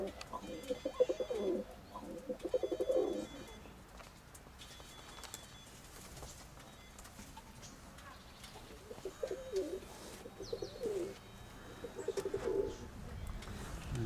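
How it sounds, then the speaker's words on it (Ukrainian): Domestic pigeons coo in a long-running dovecote in Pavlohrad, sending out soft, throaty coos in several repeated bursts. Light shuffling and faint background noise fill the gaps between them. "поки тут подивимось його голубів"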